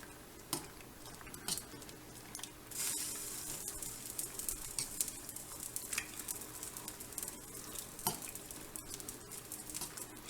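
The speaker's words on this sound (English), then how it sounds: "pastrami in there and let that get all nice and cooked up" Pastrami sizzles in a pan, a quiet close crackle with occasional stirring scrapes and soft taps, steady and unaccompanied by speech.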